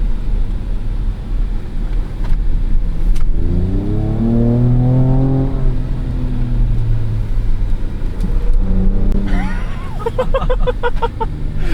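A 2024 Ford Ranger Raptor engine revving hard as the truck struggles for traction, a loud close rising and falling roar with a climbing whine, ending in a burst of rapid rougher pulses, with faint voices underneath.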